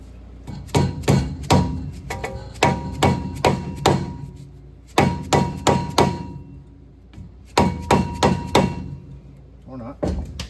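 A stuck brake rotor on a 2WD GMT800 Chevy Silverado is hammered in fast bursts of three to five sharp metallic blows, each burst separated by short pauses, loud and close.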